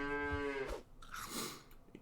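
A cartoonish cow moo from the video game Super Auto Pets, a single drawn-out low call lasting under a second, followed by brief game sound effects, with no talking.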